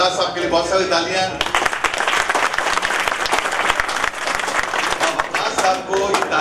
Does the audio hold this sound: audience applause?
yes